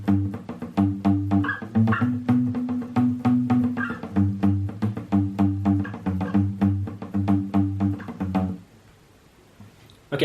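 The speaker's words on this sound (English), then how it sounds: "The second verse riff is going to sound like this." Electric or acoustic guitar plays the second-verse riff of a song as an easy lesson demonstration, a steady rhythmic pattern of chords and muted strums, then stopping near the end into quiet.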